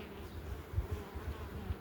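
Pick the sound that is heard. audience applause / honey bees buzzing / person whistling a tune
honey bees buzzing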